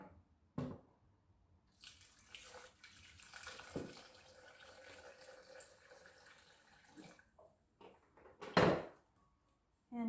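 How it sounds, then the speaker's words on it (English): Water is poured into a blender for a seaweed smoothie with hemp seeds and dates, a soft close trickle mixed with clinks and handling noises, then a louder splash near the end. "And then some water."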